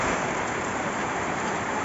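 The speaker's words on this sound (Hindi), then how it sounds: "आज सुबह सुबह बारिश शुरू हो गई है" Steady morning rain falls in Agartala, a dense even hiss of drops close by, filling the moment without pause and with no talk.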